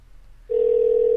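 A single steady telephone dialing tone switches on partway through and holds continuously, loud and clear after a brief quiet start.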